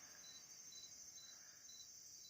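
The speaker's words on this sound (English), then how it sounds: "You hear my crickets, Melvita?" Crickets chirping outdoors, a faint, steady high-pitched trill with soft pulsing that carries on continuously without any voices.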